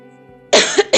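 A single loud, harsh cough bursts out close to the microphone over a low hum, with a second shorter cough right behind it.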